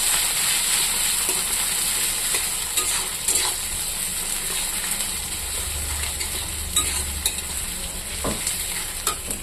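Chopped green chillies and onions frying in a pan with dried red chillies, a dense continuous sizzle with occasional scraping stirs and light clicks, close and without talk.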